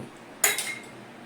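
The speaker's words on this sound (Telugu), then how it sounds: "స్టవ్ ఆన్ చేసి ఇలా చిన్న కడాయి పెట్టుకోవాలి" A single metallic clunk as a small kadai is set down on a stove, followed by a brief ringing clatter against quiet background hum.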